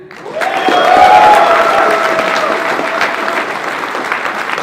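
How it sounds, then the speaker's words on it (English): A large convention-panel audience bursts into loud applause and cheering for a comic writer, dense clapping swelling quickly then holding steady, with a few whoops rising above the crowd. "I want your last applause yet for writer Rick Remender."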